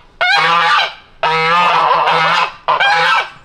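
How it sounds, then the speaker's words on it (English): Geese on a farm give three loud, close bursts of honking, each a harsh, nasal run of calls separated by short pauses, with no talking. "Well, that's a fucking noise. I'm gonna feed the geese"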